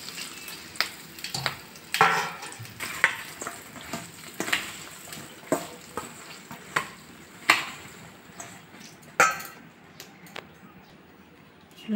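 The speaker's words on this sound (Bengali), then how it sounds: "সামান্য একটু হিং দিয়ে দেবো, লবণ দিয়ে দেবো, লঙ্কাগুলো দিয়ে দেবো।" Green chillies with asafoetida and salt frying in a pan, an ongoing sizzle broken by repeated sharp clatters and scrapes of stirring every second or so, close and moderately loud.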